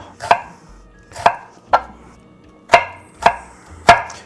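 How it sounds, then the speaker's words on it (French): A knife chops onions on a cutting board in six sharp, evenly spaced strikes, each a crisp close thud with a short wooden knock and no voices. "Ici, il nous reste à hacher les oignons."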